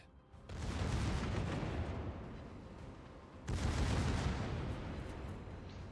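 Heavy naval gunfire during a warship battle in a video game, with broad rumbling booms as an enemy battleship is destroyed; one long roaring blast is followed by a second sharp burst that fades slowly.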